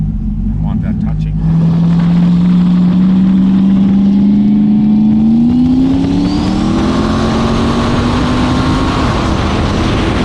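Heard from inside the car, a turbocharged LS V8 accelerates hard, its loud engine drone climbing steadily in pitch through the revs, with people talking under the noise.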